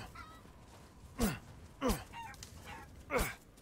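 Chickens in the video game Resident Evil Village give three short, sharp squawking clucks over a quiet ambient background, spaced roughly a second apart.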